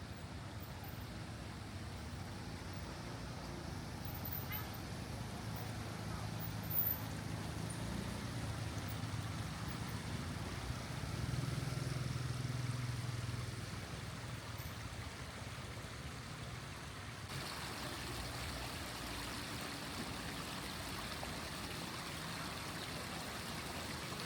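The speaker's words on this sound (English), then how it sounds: "enjoying the autumn leaves and just the beautiful sounds of the wind and the water rushing" Steady broadband rush of water along the Takase River in Kyoto in autumn, with wind blended in and a faint low rumble that swells briefly midway; no voices.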